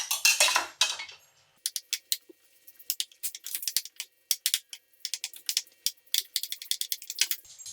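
Spoon stirring grated ingredients into a bowl of rosemary potato salad, giving repeated light clinks and scrapes against the dish in quick irregular bursts after an opening louder scrape.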